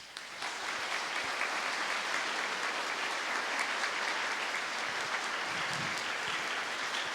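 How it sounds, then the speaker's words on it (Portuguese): A church congregation applauds its catechists with a dense, sustained salva de palmas, a thick wash of many hands clapping evenly throughout, loud and unbroken. "manifestemos a nossa gratidão aos nossos catequistas com uma salva de palmas"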